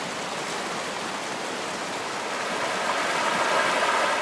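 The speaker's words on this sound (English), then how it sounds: "the sound of a rushing stream" A rushing stream pours in a dense, continuous broadband hiss, loud and close, swelling slightly toward the end with no voices.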